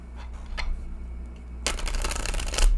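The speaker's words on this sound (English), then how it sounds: "Let's go ahead and bring this up a tad, and we will shuffle." Linen-finish playing cards are shuffled close up: a few soft flicks, then a brisk, crisp riffle of cards rapidly fluttering together.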